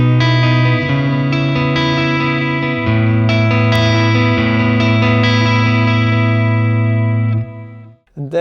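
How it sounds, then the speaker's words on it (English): Sustained distorted electric guitar chords through a Helix Stadium with delay and reverb merged on one stomp, ringing out in a wide ambient wash, shifting a few times before trailing off at the end. "delay and reverb, I have it merged to one stomp if I want more of an ambient sound"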